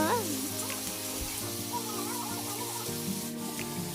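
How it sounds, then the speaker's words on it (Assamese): Cut potatoes are stirred in a frying pan, with a steady scraping, rubbing sizzle close by and a faint background voice. "তো আলুকেইডোখৰ দি পিনি ভালদৰে লৰাই থাকিব।"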